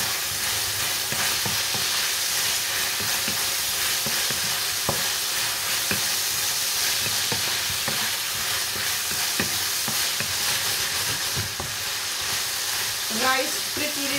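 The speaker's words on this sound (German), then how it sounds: "Reis frittiere ich immer erstmal ein bisschen oder braten" Rice frying in a pan for a beef and vegetable rice dish, a steady broadband sizzle with occasional stirring scrapes throughout, close and continuous.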